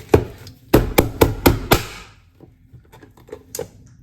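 A carrot is chopped on a cutting board: five sharp, close knife knocks in quick succession, then a pause and a few softer, scattered taps.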